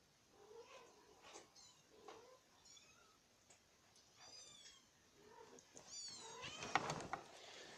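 A kitten meows over and over, soft and fairly close, in a series of short high calls that grow louder and more insistent toward the end, with no one talking.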